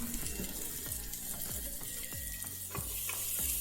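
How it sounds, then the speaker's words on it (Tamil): Minced onions frying in hot oil for a mushroom biryani, giving a steady close sizzle and crackle with some stirring scrapes and clinks throughout. "இப்போ நல்லா மின்ஸ் பண்ணியிருக்கிற ஆனியன்ஸ் ஆட் பண்ணிக்கிறேன்."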